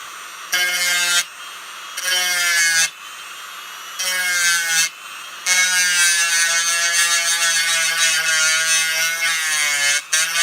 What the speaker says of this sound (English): Dremel power.